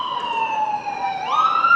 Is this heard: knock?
no